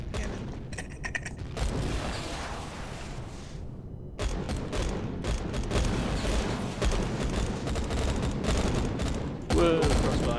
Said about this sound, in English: Up first with my flak cannon.